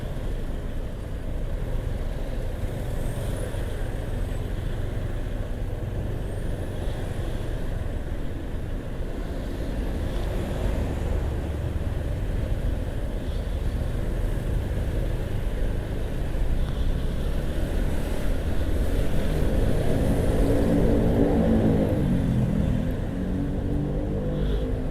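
Congested road traffic with trucks and cars in a jam hums continuously, a low engine drone that swells slightly toward the end as nearby vehicles idle and creep forward, no voices heard.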